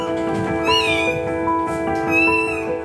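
Two kittens stuck in tar meow repeatedly in high, strained cries, close and clear over a steady background hum.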